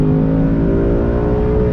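A 2020 Ford Mustang GT with a 10-speed automatic pulls hard under throttle, its engine drone steady and loud with a rising harmonic whine through the downshift, close and continuous with no talk.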